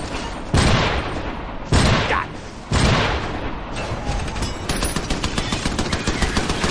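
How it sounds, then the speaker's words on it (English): Machine gun turrets in the video game Trenched open up with a few heavy booming volleys, then settle into rapid, continuous loud gunfire at close range. "Machine guns go rawr."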